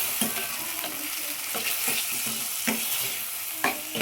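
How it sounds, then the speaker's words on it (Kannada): Chicken masala with chili powder frying and sizzling in hot oil, a steady dense crackle broken by repeated stirring scrapes at irregular intervals, close and fairly loud with no talk. "ಫುಲ್ ಚೆನ್ನಾಗಿ ಫ್ರೈ ಆಗ್ತಾ ಇದೆ ಎಣ್ಣೆಲಿ"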